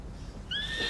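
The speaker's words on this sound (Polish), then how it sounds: "Koń?" A horse whinnies in a Polish audio drama of The Witcher, a bright rising neigh entering halfway through and holding to the end over a low, noisy background.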